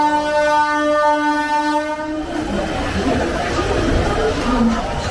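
A new Vande Bharat Express at Pune Junction sounds a loud sustained horn for about two seconds. Then comes the rumble and clatter of the train moving along the platform, with crowd chatter in the background.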